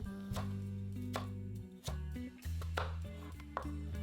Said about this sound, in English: Cut the carrots.